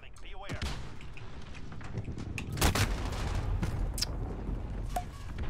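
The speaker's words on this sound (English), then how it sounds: "See what I'm shooting at." Gunfire in Call of Duty Modern Warfare plays out as scattered sharp shots and bursts at moderate distance, with one louder crack near the middle, while a player talks over the action.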